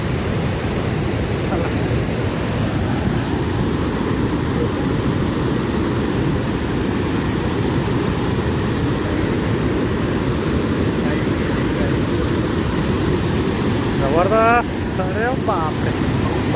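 Water falling at Morshi Dam, heard from close by as a loud, steady, unbroken rushing roar, with a brief voice near the end.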